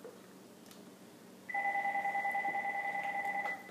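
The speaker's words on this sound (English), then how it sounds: "now the phone's ringing" A telephone rings in a home kitchen during cold process soapmaking with lard, a steady two-tone electronic warble starting partway in and continuing loud and clear over quiet room tone.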